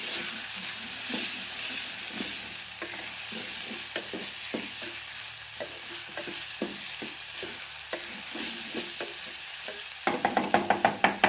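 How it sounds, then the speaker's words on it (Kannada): Onion and tomato fry in a pan with a steady sizzle, while a spoon scrapes and stirs in irregular clicks; near the end a quick run of sharper scraping taps stands out. "ಉಳ್ಳಾಗಡ್ಡಿ ಟೊಮೆಟೊ ಫ್ರೈ ಇದಾವ್ರಿ"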